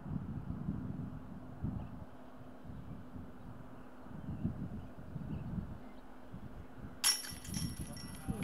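Gusty wind buffets the microphone on an outdoor disc golf course in breezy conditions, a steady low rumble swelling in irregular gusts throughout, with a brief sharper crackle near the end.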